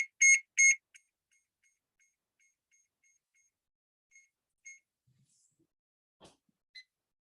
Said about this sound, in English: I will be putting a timer. 45 minutes I will put timer